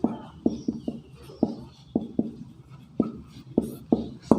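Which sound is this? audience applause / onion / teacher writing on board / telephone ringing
teacher writing on board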